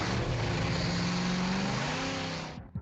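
A muscle car's exhaust revs loudly as a radio ad sound effect, a sustained engine roar rising in pitch, then cutting off abruptly at the end.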